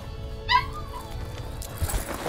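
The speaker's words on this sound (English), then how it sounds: "he gets louder and barks more" A dog gives one short, sharp yipping bark close by, rising in pitch, then low room noise continues with faint background sounds.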